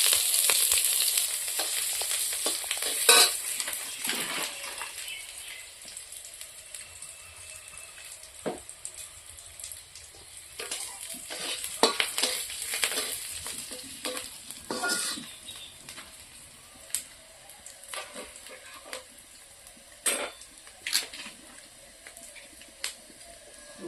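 Panch phoron spices sizzle and crackle softly in hot oil in a home kitchen, with scattered clinks and scrapes of a utensil stirring the pan, steady and fairly quiet throughout.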